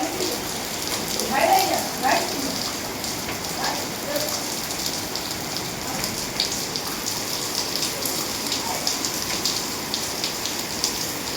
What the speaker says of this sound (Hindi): नाश्ता करते करते बारिश आ गई थी